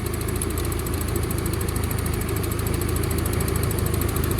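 A Nissan KA24E four-cylinder in a 240SX idles steadily on its first start after fuel injector installation, a loud, even mechanical drone with a fast ticking rhythm, close up and without talk.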